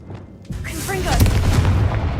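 Confringo fire spell in Hogwarts Legacy detonating into a loud, sustained booming explosion with a rumbling tail, following a brief spoken voice.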